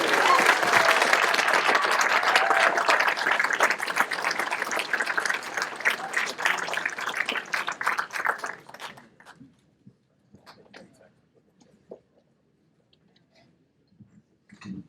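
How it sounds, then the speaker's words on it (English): Crowd applause at a Saints Hall of Fame ceremony: steady, loud clapping from a large audience for about eight seconds, thinning into scattered claps and then near quiet. "a big round of applause for Saints Hall of Famer Jahri Evans"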